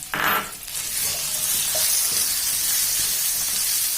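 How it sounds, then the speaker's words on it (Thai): Curry paste stir-frying in plenty of oil in a pan for khanom jeen nam ngiao, a loud, close, continuous sizzle and hiss with a brief clatter of stirring at the start. "ผัดเครื่องแกงให้หอมค่ะ"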